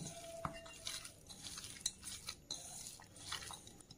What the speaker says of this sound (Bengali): এবার আমি ভালো করে মেখে নেব